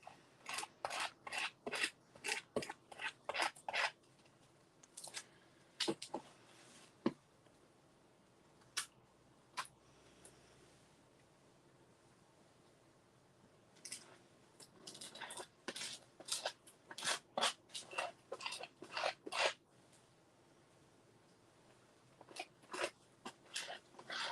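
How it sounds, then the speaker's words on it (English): A card scraped across paint on a mixed media surface, giving quick repeated rasping strokes in bursts, a fast run at first, a few scattered scrapes, then another busy cluster, close and fairly quiet. "now scrape a card."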